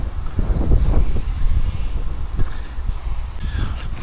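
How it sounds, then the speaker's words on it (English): Steady blustery breeze buffeting the microphone beside a carp-fishing backwater, a continuous low rumbling wash with gusty swells and no talking. "Just a little bit of a breeze moving through. bit blustery."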